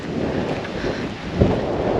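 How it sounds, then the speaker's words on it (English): Steady wind buffeting a GoPro microphone, a continuous low rumbling roar with no voices. "Man, it's windy today."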